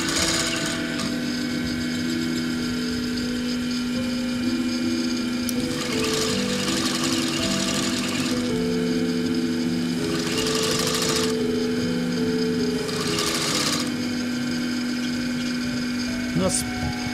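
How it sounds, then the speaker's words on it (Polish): A furrier's sewing machine joins two pieces of leather or fur hide with a very small stitch, a rapid mechanical whir in several bursts of a few seconds each, with steady motor hum in between. "Maszyna ta nazywa się maszyna kusznierska."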